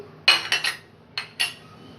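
A spoon clinks against a bowl while adding yogurt to a chicken marinade: a quick cluster of three bright taps, a pause, then two more, close and crisp against near silence.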